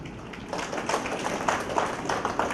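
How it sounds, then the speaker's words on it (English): Audience clapping for Satish Chandra at a lecture on federalism, a steady wash of applause with scattered louder claps, moderately distant and continuous throughout. "So we must give the big clap for the Satish Chandra."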